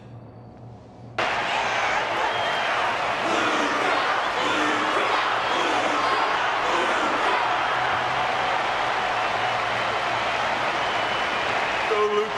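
In a Honkai: Star Rail cutscene, an arena crowd breaks into steady, constant applause that begins abruptly after a short quiet opening and keeps roaring throughout, with a voice speaking over it.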